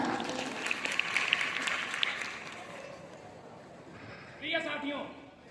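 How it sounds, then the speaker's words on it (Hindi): A crowd claps steadily for a few seconds at a school investiture ceremony, fading gradually, before a voice briefly starts speaking in Hindi over the tail end. "इनका जोरदार तालियों से स्वागत करें।"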